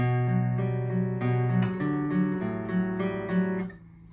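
Guitar playing the arpeggiated intro, picked notes flowing steadily over sustained low strings for a few seconds before stopping, close and clean with no speech.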